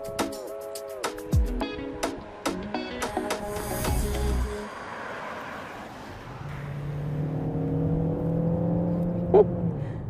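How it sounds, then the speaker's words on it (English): A Dacia Bigster hybrid SUV with a 107 horsepower engine and a 49 horsepower electric motor, 155 horsepower combined, pulls away with a rising engine drone. It follows a stretch of clicks and tonal chimes, steady and fairly close. "What I really like is that it accelerates pretty well."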